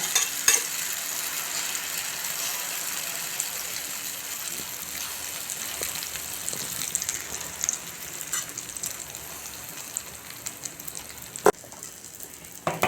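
Egg omelette mixture for an egg roll fries in hot oil, giving a steady close sizzle and hiss with occasional small pops and crackles throughout.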